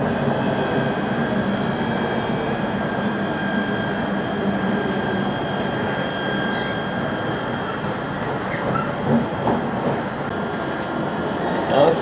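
A KTM commuter train rolls between KL Sentral and Pelabuhan Klang, its carriage rocking over rough track: a loud, steady rumble of wheels and body noise with a faint tonal hum, heard from inside the car.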